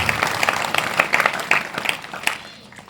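An audience at a spiritual gathering claps loudly in a dense, irregular patter that gradually thins and fades toward the end.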